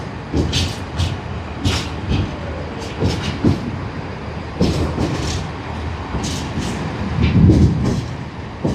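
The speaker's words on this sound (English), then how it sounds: "This train will have come off the Reading line" A train rolls through Basingstoke railway station off the Reading line, a steady rumble with repeated wheel clicks and clunks over the track joints, fairly close and alone without talk.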